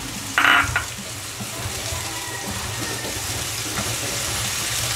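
Garlic and white onion sautéing in a pan for spaghetti, a brief loud hiss as ingredients hit the hot oil, then a steady crackling sizzle.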